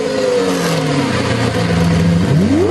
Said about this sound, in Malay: Ini bunyi enjin kenderaan.